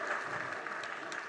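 An audience claps through a sermon, a dense, steady patter of hands held at an even level throughout, with no voices over it.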